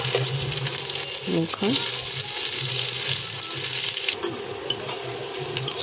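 Chopped onions fry with panch phoron in hot oil for khichdi, giving a steady close sizzle with a few stirring scrapes, and a voice speaks briefly over it.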